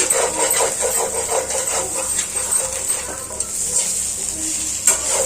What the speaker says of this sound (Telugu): ఎగ్స్ని ఒక సైడ్ పెట్టేసుకొని మంచిగా రోస్ట్ చేసుకోవాలి అప్పుడు బాగుంటుంది